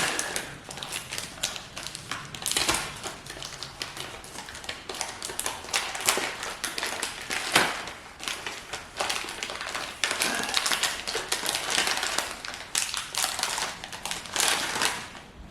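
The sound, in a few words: tearing open a food packet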